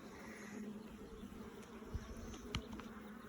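Agitated honey bees drone continuously around an opened hive during an inspection, a steady layered buzz with a couple of faint clicks, soft and somewhat distant, without speech.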